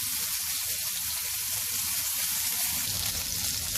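Pieces of rui fish frying in oil on a tawa, giving a close, continuous crackling sizzle at an even level from start to finish.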